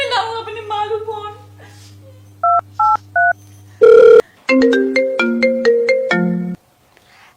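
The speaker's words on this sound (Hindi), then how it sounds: "अभी मिलाऊं अपनी मालू फोन।" A phone ringtone plays a short series of electronic beeps followed by a melodic ring pattern, loud and close, after a stretch of talk with a low hum.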